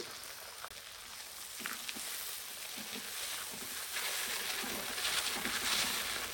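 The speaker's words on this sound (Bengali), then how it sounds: "তারপর আমি টমেটোগুলো দিয়ে দিচ্ছি" Tomatoes dropped into a pan of frying onions and chickpeas, giving a steady, close sizzle that swells and grows a little louder toward the end, with no voices.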